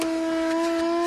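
A Keynice car vacuum cleaner runs with a steady, close motor hum and a bright tonal whine that holds unchanged throughout.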